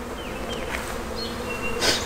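Honey bees buzz on hive frames in a dense, steady drone close by, with individual bees whining past now and then.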